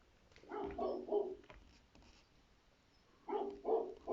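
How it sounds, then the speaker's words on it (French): A dog gives two short bursts of low muffled barks or yelps, separated by a quiet pause, sounding indoors and moderately close. "Il n'y a pas moyen de faire taire ce chien"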